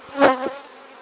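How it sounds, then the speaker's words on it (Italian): Honeybees buzz around an opened wooden beehive during an inspection: a short, close, swelling hum that peaks and then fades. "c'è una quantità di api"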